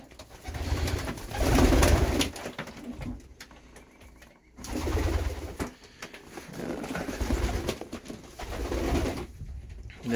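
Racing pigeons coo in a loft on a bright snowy day, their soft throaty calls coming in several bursts that rise and fade, fairly close with a low rumble between phrases.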